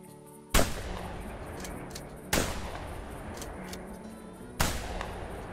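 Three loud 12 gauge shotgun blasts at clay targets in the hunting game theHunter Classic, each a sharp, booming crack with a decaying tail, spaced roughly two seconds apart.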